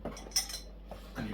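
A Petromax cast iron Dutch oven lid being handled, giving a few quiet metallic clinks and knocks spaced irregularly, close but faint.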